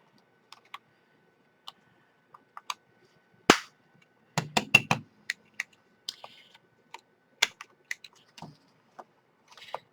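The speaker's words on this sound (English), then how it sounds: "I'm going to go through and round my corners." A corner rounder punches through paper corners for a laminated traveler's notebook, giving sharp, isolated clicks and snaps at irregular intervals, with a quick cluster in the middle, against near silence.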